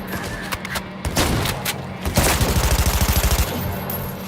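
Vehicle-mounted gun firing in Cyberpunk 2077, a loud dense burst of rapid automatic shots in a fast regular rattle, close and heavy amid game noise.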